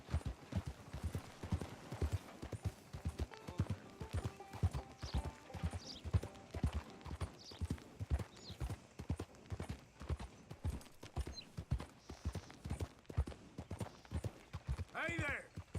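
Steady clip-clop of a horse's hooves at a walking pace in Red Dead Redemption 2, close and rhythmic, with occasional voices talking over it and a brief whinny near the end.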